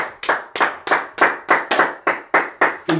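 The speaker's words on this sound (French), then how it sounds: "On acclame très fort le Seigneur." A church congregation claps in a steady, loud unison rhythm, about eleven sharp claps in quick succession with no talking over them.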